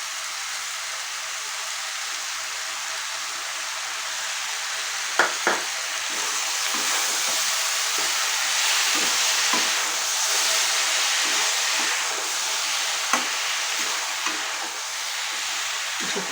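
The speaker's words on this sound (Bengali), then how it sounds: "কিছুক্ষণ এরকম নাড়ালে এটা আস্তে আস্তে গুড়টা পুরোপুরি গলে যাবে" Mango pickle with sugar and jaggery sizzles in a pan as it is stirred, a steady close frying hiss broken by occasional clinks of the spoon, with no talking.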